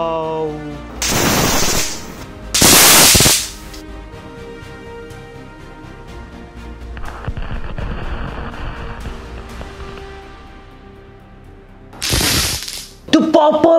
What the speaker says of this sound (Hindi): अब मैं गिराने वाला हूँ एक साथ सारे के सारे।